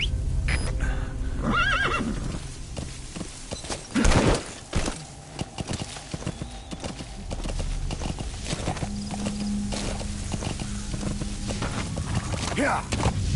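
Horse hooves clip-clopping with a neigh in Metal Gear Solid V, a loud close gallop with game sounds and speech layered over it.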